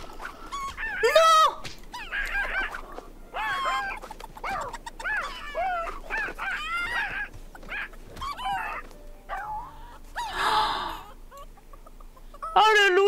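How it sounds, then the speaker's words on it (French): A rooster and other farm animals in The Sims 4 give a busy run of clucks, honks and squawks, loud and close, overlapping for several seconds. "Oh, regardez mon coq."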